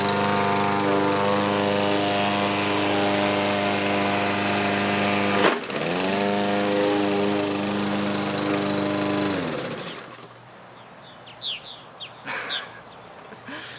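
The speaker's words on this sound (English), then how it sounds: "So you can tell how much more power the gas mower has." A gas lawn mower runs loud and steady close by, its engine droning with strong harmonics, briefly jolting as it strikes something, then shuts off, leaving quiet outdoor air with a few faint bird chirps.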